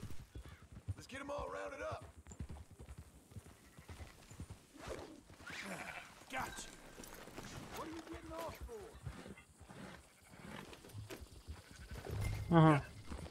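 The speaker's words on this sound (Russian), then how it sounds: "тут есть овца" Horse hooves clip-clop among sheep in the video game Red Dead Redemption 2, with intermittent hoofbeats, a brief bleat near the end, and a person talking over the game sounds.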